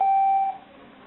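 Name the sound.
Casio MQ-1200 calculator key beep tones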